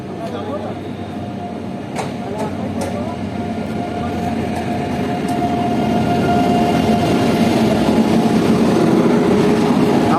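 The flower-decorated Kanchanjunga Express, hauled by a 30000-series WAP-7 electric locomotive and running LHB coaches, rumbles steadily into platform one at Sealdah, growing louder as it nears, with faint high squeals.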